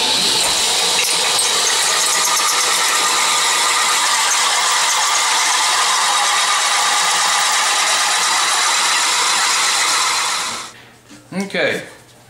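A power drill with a hole saw grinds steadily into a metal can, a loud continuous whine for about ten seconds before stopping, followed by brief talking.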